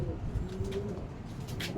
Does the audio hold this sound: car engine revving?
no